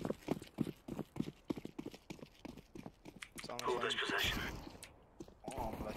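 Horse hooves clip-clop in a video game, a steady rhythmic trotting heard under ongoing speech, with louder game noise swelling partway through.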